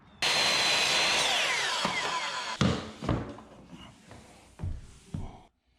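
A power saw whines loudly through baseboard trim for about two seconds with the finished face up, its pitch dropping as the blade slows, followed by several sharp knocks and clunks as the cut piece and wood are handled.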